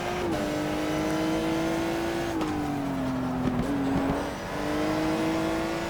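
A race car engine in the video game GTR2 drones steadily around the track, holding a loud, continuous pitch with small rises and dips as it shifts and eases through corners, with no talk.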